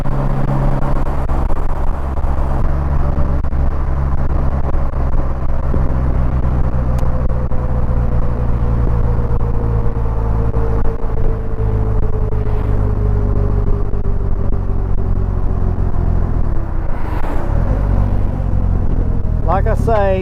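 A Polaris Slingshot's engine rumbles as it is downshifted to fourth gear while driving, a steady low drone with the pitch gradually sliding down, loud and continuous with a few faint blips near the end.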